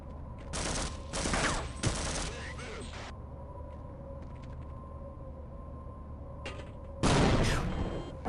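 Grenades explode in the Cthulhu adventure game Gibbous, with a cluster of loud, rumbling blasts early on, a quieter lull, then another heavy burst near the end.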